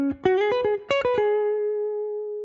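A clean electric guitar lick in the style of a solo: a quick run of picked notes with a bend, a short pause, another flurry, then a held note ringing out and fading.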